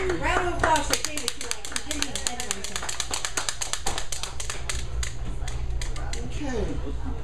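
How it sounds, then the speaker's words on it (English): A run of sharp, rhythmic hand claps at an open mic night, fairly close and even-paced, with a person talking over them at the start and end. "Round of applause for David."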